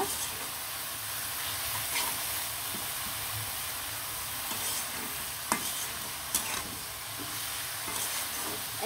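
Red amaranth greens stir-fried in a pan until the water cooks off, a continuous close sizzle and hiss with scraping stirs and a few sharp utensil clicks against the pan, no talking.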